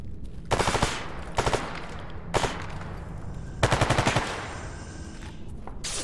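Rapid automatic gunfire in the STALKER Anomaly video game as a player empties all ammo at a monster, fired in several loud sustained bursts separated by short pauses.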